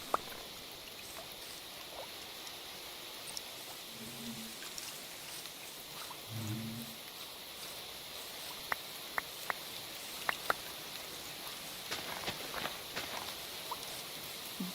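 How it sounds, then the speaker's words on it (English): Soft rain patters faintly outdoors on a rural spot near farm fields, a quiet steady hiss with scattered drip ticks and a few brief low rumbles, no talking. "Now we get to listen to the rain."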